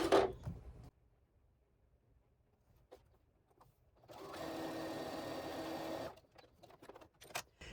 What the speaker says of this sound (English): I'm just going to sew that down right along that strip